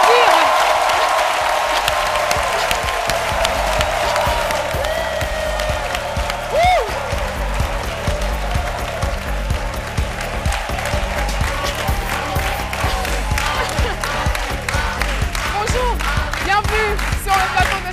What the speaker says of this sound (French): je vais vous demander d'applaudir avec des ovations bien énergiques notre champion du jour